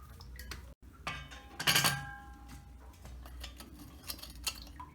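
Metal burner head being fitted onto a picnic gas stove, producing close metallic clinks and scraping clatter, with a brief louder rattle in the middle and lighter taps afterward.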